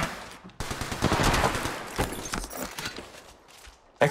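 Rapid bursts of automatic gunfire in a video game shooter, fairly faint and close, with a longer volley early, brief pauses and a final short burst.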